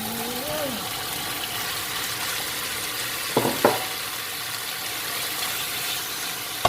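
Beef stir-fried with chili paste in a hot pan sizzles steadily for the whole stretch, with a couple of brief clatters of a spatula partway through and a voice speaking briefly at the start.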